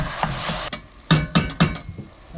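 Ground turkey breast frying in a pan gives a soft sizzle beneath several sharp knocks and scrapes of a utensil mashing the meat against the pan.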